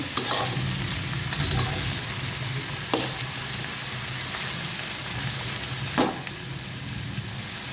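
Salted vegetables sizzling steadily in a pan while being stirred, with a few sharp spatula scrapes standing out from the continuous close frying hiss; no talking.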